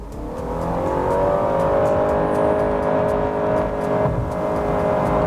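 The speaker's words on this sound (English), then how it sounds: "Honda produces some sort of fake sound in the cabin" Inside a 2020 Honda Accord Hybrid in Sport mode under hard acceleration, a steady, rising engine drone blends with an artificial cabin engine sound, a loud harmonic whir that climbs smoothly in pitch with no one speaking.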